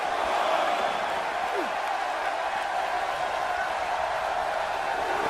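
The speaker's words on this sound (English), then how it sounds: "The crowd giving Eddie Guerrero his props here" Crowd cheering for Eddie Guerrero at a wrestling match in WWE 2K18, a steady broad roar of arena noise holding loud and even throughout without clear peaks.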